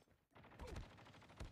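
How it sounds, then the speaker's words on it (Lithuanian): Rapid bursts of gunfire from the video game Call of Duty, played during a tournament, come as a string of sharp, quiet cracks, with a denser cluster near the end. "Blemkai šaudo."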